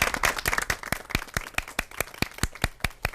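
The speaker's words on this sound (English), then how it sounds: "Let's give them a round of applause." A modest audience claps for a panel at the close of a public forum on cancer in Louisiana, with dense applause at first that thins within a second into a few loud, evenly spaced claps close by.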